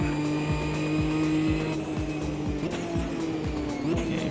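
A race car in the Automobilista 2 sim racing game brakes and downshifts, with a steady engine drone, regular tonal blips and tire noise, loud and close with no talk.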